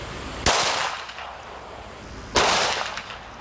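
An FN Five-seven pistol firing 5.7x28 rounds: two sharp, loud shots about two seconds apart, each trailing off in a brief echoing decay.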